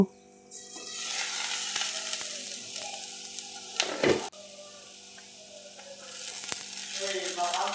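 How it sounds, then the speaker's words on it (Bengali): Vegetables, including beetroot seasoned with salt and turmeric, fry in oil in a pan for vegetable cutlets. A steady close sizzle runs throughout, broken by a brief scraping stir about midway. "এখানে আমি সমস্ত সবজিগুলি দিয়ে একটু ভালো মতো ভেজে নেব।"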